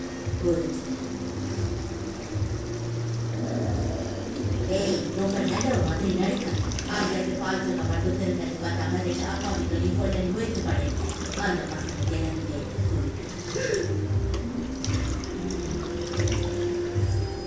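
Three glasses of water are poured into rice for biryani, a steady splashing, running-water wash that continues through the clip, with voices present in the background.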